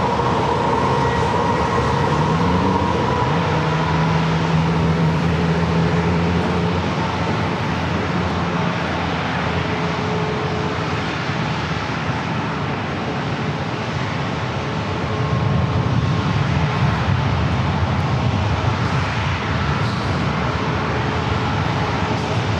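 A jet airliner taking off from runway 27 at San Diego airport, a loud continuous engine roar that holds steady for the full stretch and swells slightly near the end, heard at fairly close range without any voices.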